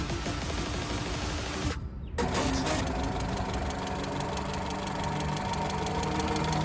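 A 2004 Honda Civic VTEC automatic engine idles steadily and evenly, a constant mechanical hum with a brief dip near the start, no voices.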